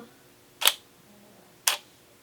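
Shutter of a single-lens reflex camera on a one-second exposure: two crisp mechanical clicks one second apart, sharp and close, the mirror slapping as the shutter opens and then shuts, with quiet room tone between and no talking.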